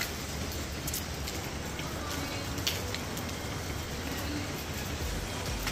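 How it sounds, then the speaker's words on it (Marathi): Heavy monsoon rain falls near the beach at Dahanu, Palghar, in a dense, even hiss, constant and unbroken throughout, heard from a moderate distance. "थोडा थोडा पाऊस पडतोय, थोडा नाही म्हणजे जोरातच पडतोय"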